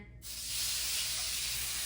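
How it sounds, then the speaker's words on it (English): A sudden loud, sustained hiss begins and holds steady as steak hits a hot skillet and sizzles close up. "You can hear it sizzle."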